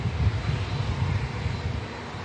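A Boeing Dreamliner jet airliner departs Manchester Airport with a steady, broad engine roar, dense low rumble dominating throughout, sustained and fairly close with no voices.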